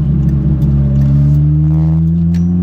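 Renault R5 Turbo 2 engine pulling at low revs in second gear, a loud steady droning hum rising gently in pitch as it picks up, heard close from inside the car with no talking.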